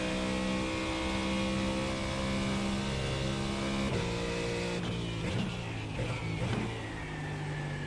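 In a racing video game, an LMP2 prototype race car engine drones steadily at high revs, loud and close, with a few brief shifts and bumps near the end.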